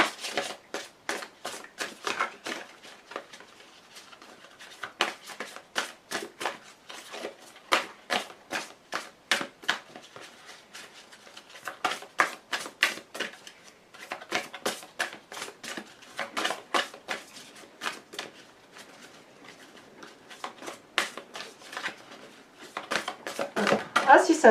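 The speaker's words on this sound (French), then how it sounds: "les cartes sont grandes, c'est assez difficile de les faire sauter" Large oracle cards are shuffled by hand in repeated bursts of papery riffling and slapping, steady and close throughout, with speech heard along with the shuffling.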